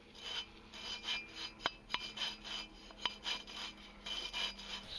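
Soft, rhythmic rubbing and grinding as an engine valve is twisted back and forth against its seat with gritty grinding compound, with a few sharp clicks.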